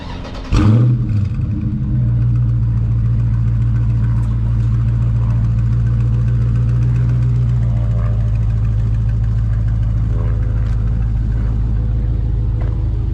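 A Dodge Charger Daytona 392 V8 fires up with a sharp crank and loud revving bark, then settles into a steady, deep, rumbling idle that continues for many seconds, close and alone.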